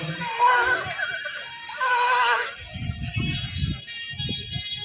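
Horse whinnies twice in quick succession at the ring of a village horse riding festival, loud and close, followed by low rumbling crowd noise and hoofbeat-like thuds.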